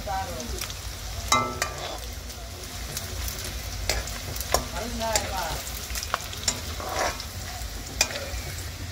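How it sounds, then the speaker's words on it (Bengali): Whole spices and onion frying in hot oil for a chicken curry, a busy close sizzle broken by repeated clacks and scrapes of stirring, with no one speaking. "এখানে এখন খাড়া মশলাগুলো দিয়ে দিব ভাজার জন্য।"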